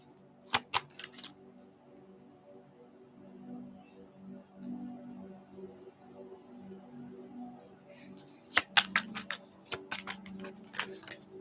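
Tarot cards are riffled and slapped down during a reading, in several short, sharp bursts of crisp card noise near the start and again toward the end, with a low murmur of talk in between.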